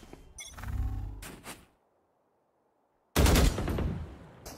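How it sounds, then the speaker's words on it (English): Gunfire in the Valorant video game: two loud bursts of rapid shots, the first bunched volley followed by a short gap and then a sharp, louder second burst after a stretch of silence, heard alone without talk. "I didn't need to shoot my gun."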